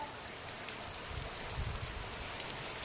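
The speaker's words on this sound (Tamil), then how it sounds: "நீங்க நல்லா பாருங்க செம மழை" Heavy rain pours in a steady, dense hiss, fairly close and loud, with no break across the short stretch.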